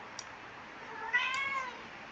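A pet kitten meows once, a short rising-falling cry, with a faint click just before it, close to the mic in a quiet room.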